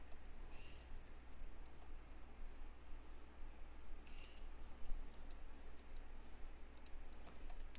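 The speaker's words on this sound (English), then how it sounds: "What's that clicking noise?" Faint, scattered clicks like keyboard typing, tapping irregularly through a steady background hiss during a Diablo 2 Resurrected gaming session, no speech over them.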